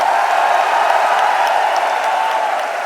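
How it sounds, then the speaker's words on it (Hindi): An audience breaks into sustained, steady applause to welcome the Delhi team at a political gathering, dense clapping from a large crowd filling the space and tapering slightly at the end. "एक बार दोनों हाथ से तालियां बजा के दिल्ली की टीम का स्वागत करें"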